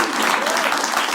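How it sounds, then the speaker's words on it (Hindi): Audience applause at a stand-up comedy show: loud, dense clapping that fills the whole moment at a steady level, with no voice rising above it. "अब क्यों ताली बजा रहे हो"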